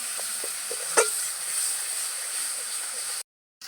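Spices with turmeric and salt sautéing in a pan give a steady, soft sizzle with a few light spatula clinks, then the sound cuts off into brief silence.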